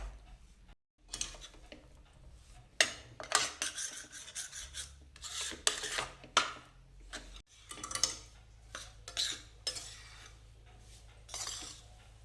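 Gram flour for besan ladoo roasting in a pan while a spoon stirs it continuously, giving repeated dry scraping and rasping strokes in uneven bursts with brief pauses, close and fairly clear.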